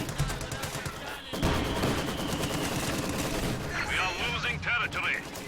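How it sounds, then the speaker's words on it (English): Artillery barrage and gunfire from the Company of Heroes 2 video game, a dense, continuous roar of overlapping shots and blasts that holds loud throughout, with commentary talk layered over the battle. "opening barrage, a very successful one"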